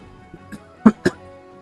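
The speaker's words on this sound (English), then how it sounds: "I'm gonna cough." Two loud, close coughs in quick succession, preceded by a couple of softer throat noises, with no talk, from a man during a Pathfinder: Kingmaker gaming session.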